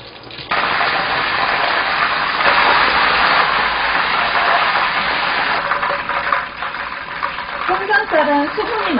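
Steady crackling and sizzling of lightly floured fish fillet pieces frying in hot oil, a dense watery bubbling hiss that starts suddenly and continues throughout, with faint background sounds near the end.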